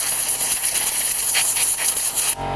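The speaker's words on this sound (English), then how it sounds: "Just spray it off real good." A dirty RC basher car being sprayed off with a water hose, a steady close hiss of spray running continuously before cutting off abruptly near the end.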